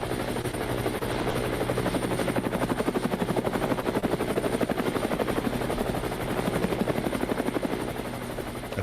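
A helicopter sound effect, its rotor chopping loudly and steadily for about nine seconds with no voices over it.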